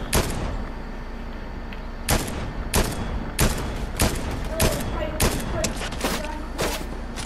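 Rapid gunfire from a Fortnite Zero Build match, with roughly a dozen sharp shots spaced irregularly over constant game background noise, fairly close and loud.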